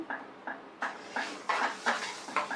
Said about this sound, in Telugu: మెంతులు కూడా అదే వేసుకుని